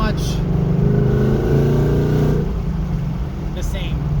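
A 2019 Ford Mustang with long tube headers and a stock catback exhaust idles with a deep, steady rumble close by, its tone shifting slightly midway as the engine settles.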